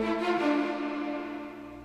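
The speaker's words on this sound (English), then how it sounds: "I added a little extra string cue hit right here." Orchestral high string embellishment cue hit from a Dragon Ball Z remix score: a single bright sustained string chord that swells briefly and then fades, playing alone.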